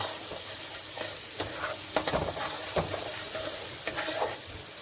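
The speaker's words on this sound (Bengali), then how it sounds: "সবগুলোকে একসঙ্গে আমি এখন একটু কষিয়ে নেব" Spices with Kashmiri chilli powder sautéing in oil, a steady sizzle broken by repeated scraping stirs of a spatula against the pan, close and continuous with no talking.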